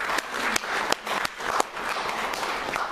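An audience at a poetry afternoon claps, a brisk patter of many hands with sharper individual claps standing out, heard close and lasting the whole stretch.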